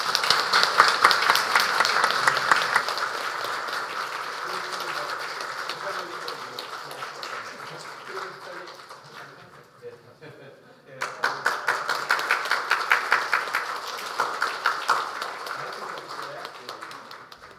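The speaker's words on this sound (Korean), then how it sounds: "우리 함께 박수 주시기 바랍니다" A church congregation claps steadily through a Sunday service, a dense wash of applause that dips briefly, then resumes with rhythmic, near-unison clapping.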